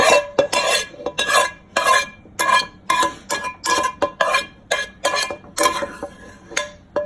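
Beans are stirred into a beef rib and guajillo sauce in a pot, with a spoon scraping in a steady rhythm of about a dozen close, repeated strokes and light clinks against the pot.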